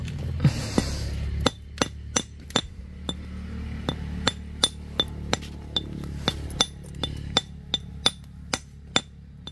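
Hammer strikes riveting wooden parts while a table top is cut from a century-old Dau tree, a steady series of sharp metallic clinks at roughly half-second intervals, fairly close and without talk.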